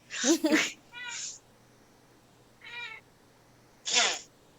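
A house cat meows several times in short, bright calls with pauses between them, close to the microphone in a quiet room.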